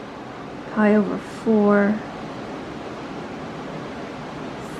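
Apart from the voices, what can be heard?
strong wind outdoors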